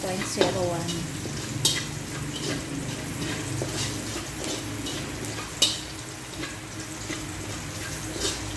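Onion and garlic with salt frying in a pan for fried rice, a steady soft sizzle with occasional stirring clinks and scrapes, close by, with no talking.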